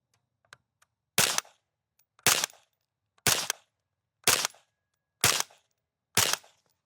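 Six shots from an unsuppressed FN P90, fired standing at a range, sound as loud, sharp reports spaced about a second apart, each with a brief tail, after a couple of faint clicks.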